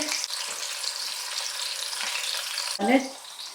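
Onions fry in olive oil in a pan, a steady close sizzle with a few stirring scrapes and a louder burst near the end, with no voices.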